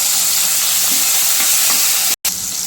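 Jackfruit seed vegetable with tomato sautéing in a pan, cooked in Konkan style: a steady, loud, broadband sizzle and frying hiss runs throughout, broken by one brief dropout near the end.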